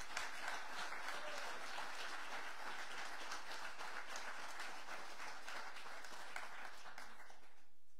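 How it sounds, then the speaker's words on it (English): Corporate event audience gives a round of applause for the Medline team, an even wash of many hands clapping heard at moderate distance, steady for several seconds before tapering off at the end. "So we can just give our team one more round of applause."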